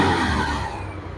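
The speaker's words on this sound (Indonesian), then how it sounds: "Ketika mesin saya nyalakan, saya tarikkan." A Honda Scoopy motor scooter engine revs briefly and loudly up close, the roar tapering off quickly.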